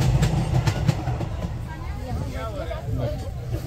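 A passenger train rolling along the rails at Gaya station, a rumbling clatter with rhythmic clicks beneath the murmur of a crowded platform, where people talk throughout.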